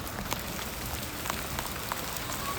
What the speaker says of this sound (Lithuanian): Ledukais pradėjo lyt.